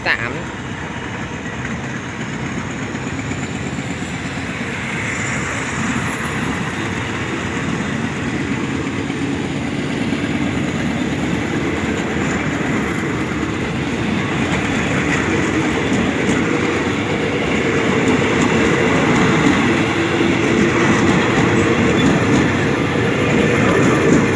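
Alsthom 4303 diesel locomotive hauling ordinary train 202 (Phitsanulok to Bangkok) at Bang Mun Nak station, a steady loud rumble of engine and rolling railcars throughout, with a faint voice underneath.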